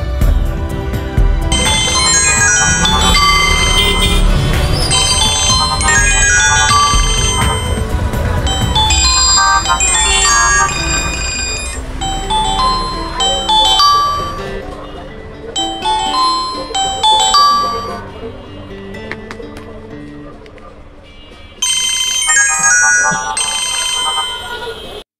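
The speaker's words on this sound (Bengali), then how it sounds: "আমি যদি রিংটোন একটু বাজিয়ে আপনাদের শোনাই যে দুইটা ফোনের রিংটোন কেমন ছিল" Ringtones from two button phones, an Itel and a Samsung, play loudly one after another as bright, melodic electronic tunes in several bursts separated by short pauses.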